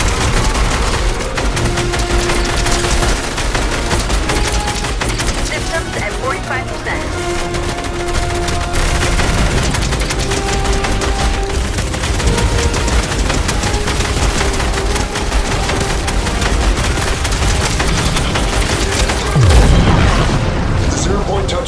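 Fortnite gunfire crackles in dense, continuous volleys with heavy booms throughout, mixed with dramatic music and voices talking over the chaos.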